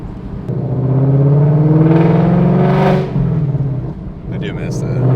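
A Corvette Z06 engine revs hard on a wet road, a loud sustained roar climbing in pitch, dipping briefly and rising again, heard from close by with people talking faintly underneath.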